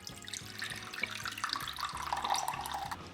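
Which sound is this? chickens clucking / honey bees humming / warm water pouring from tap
warm water pouring from tap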